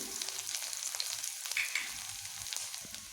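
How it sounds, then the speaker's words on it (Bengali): Green chilies, chopped garlic and nigella seeds fry in hot oil in a kadai for cooking radish leaves, giving a soft, steady sizzle with faint crackles and stirring scrapes, quiet and close. "এবার আমি এই ফোড়নগুলোকে বেশ ভালোভাবে ভেজে নেব"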